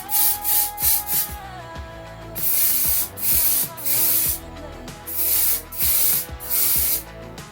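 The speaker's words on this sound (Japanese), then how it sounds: "最後にこれ、トリエのスプレーですね。 10。 めっちゃ強いやつ。" Trie strong-hold hair spray hisses from a can onto hair in a rhythm of short and longer bursts, loud and close, with brief pauses between sprays and no talk.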